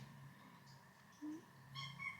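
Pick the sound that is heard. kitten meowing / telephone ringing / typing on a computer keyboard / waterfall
kitten meowing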